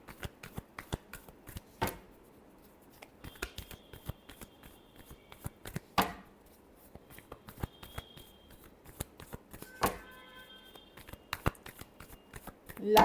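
Tarot cards being shuffled in repeated crisp riffling bursts with sharp snaps between them, close and fairly quiet, no talking over them.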